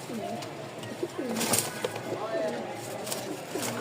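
Lotan pigeons, a fancy breed, coo near the listener in repeated low rolling phrases, with soft rustles and a brief chirp in between.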